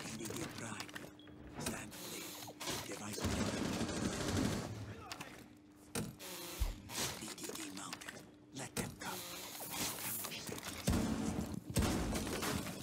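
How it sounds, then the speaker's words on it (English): Shotgun blasts in a first-person shooter video game, sharp loud broadband bursts recurring several times amid mechanical clacks and reload sounds, with a voice talking over the action. "Wow, that's one shotgun."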